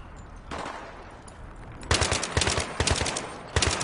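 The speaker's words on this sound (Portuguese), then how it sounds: "Ok, tô levando tiro." Automatic machine gun fire in the video game Battlefield 3, starting with a brief distant burst and then several loud rapid bursts in close succession, separated by short pauses.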